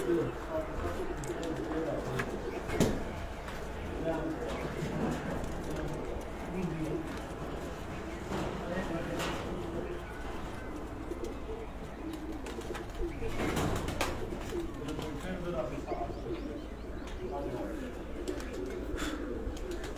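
China pigeons in a home loft keep up a continuous low cooing, with occasional sharp clicks and rustles breaking through at a steady, moderate level.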